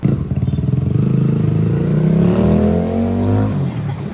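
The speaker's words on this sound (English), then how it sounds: "Lots of loud motorbikes, like I was saying." A loud motorbike roars past nearby on a street in Canggu, Bali, its engine note climbing then fading, with the rattle and buzz of street traffic around it.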